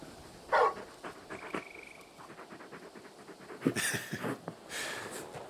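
A big dog pants in Final Fantasy XVI with quick, breathy huffs coming in short bursts, close and fairly clear, with a few soft sniffs and shuffles between them.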